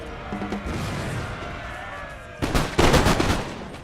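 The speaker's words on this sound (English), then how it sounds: "Prussia Fusiliers are shooting with the rifle, shooting against the rifles" Rifle volleys from Prussian fusiliers in a strategy battle game: a steady din of distant musket-like shots, then a louder, denser burst of crackling gunfire near the end.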